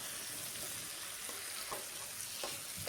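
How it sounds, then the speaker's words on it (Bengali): Potatoes, onions and prawns with turmeric fry together in a pan, giving a steady close sizzle with occasional soft stirring clicks throughout. "কিছুক্ষণ আলু পেঁয়াজ চিংড়ি মাছ একসঙ্গে ভেজে নিতে হবে।"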